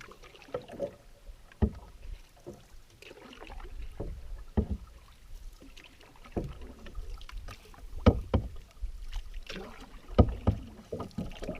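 A canoe is paddled across a lake in Algonquin Park, with soft irregular paddle strokes and splashes, some wind noise and no talking.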